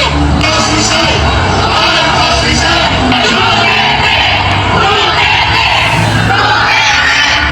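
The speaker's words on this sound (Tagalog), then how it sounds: "eto ngayon na nakakabinging sigaw ng sabay ng Pilipino!" A large crowd of Filipinos shouting together, a loud and continuous roar of yelling and cheering that does not let up.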